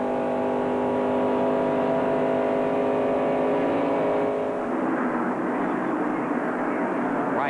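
Race cars at the 1993 Daytona 500 roaring past, a sustained loud engine drone that swells and then shifts pitch as the pack goes by, with crowd and track noise underneath.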